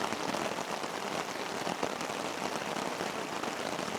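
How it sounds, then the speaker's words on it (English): Steady rain patters on a tarp overhead at a campsite in the Juniper Prairie Wilderness, a dense, even hiss of drops with no voices. "there's just something about sitting under a tarp with it raining"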